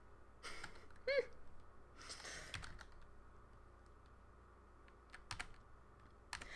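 A computer keyboard is typed on in scattered bursts of clicking keystrokes, close and fairly quiet, with long pauses between clusters and a low room hum underneath.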